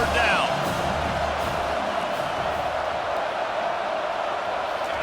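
A stadium crowd in College Football 25 at a South Carolina Gamecocks versus Ole Miss game rises into a loud, steady roar of cheering on third down, with commentary over it.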